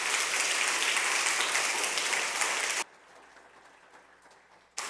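A church congregation applauds to welcome newcomers, a dense, steady clapping that fills the room for a few seconds and then stops abruptly, leaving quiet room tone.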